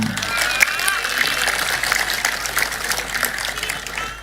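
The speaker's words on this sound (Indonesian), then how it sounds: "Tepuk tangan" An audience applauds at a public speech in Indonesia, a dense continuous patter of clapping that holds steady for a few seconds.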